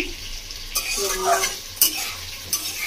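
Whole spices tempering in hot oil for a tangra fish curry, stirred in a pan: a steady crackling sizzle punctuated by sharp scraping clinks of a spoon against the pan, close and fairly loud, with no talk.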